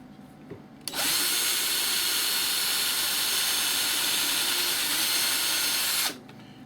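A power drill whirs steadily for about five seconds, loud and close, as it starts holes in an AT-6 Texan model aircraft, starting abruptly and cutting off cleanly with no talk.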